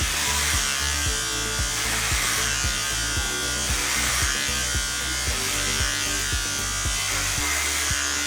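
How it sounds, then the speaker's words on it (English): Electric hair clipper cutting thick, strong hair against the growth direction, a close continuous buzz with repeated rhythmic pulses as it drags through, no talk. "And I cut against the hair growth direction, so it's pushing itself against the clipper."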